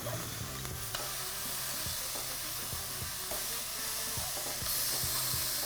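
Tofu fries in a pan with a steady, close sizzle that fills the whole stretch, broken by a few soft knocks and scrapes as the pieces are turned.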